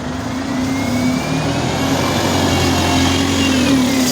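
Traffic passing a bus stop in Barnsley, with a steady loud rumble of vehicle engines and a sustained idling tone throughout, close and continuous with no speech.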